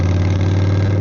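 A Yamaha V Star motorcycle engine runs with no exhaust fitted. It makes a loud, steady, close rumble that holds constant through a brief moment with no talking.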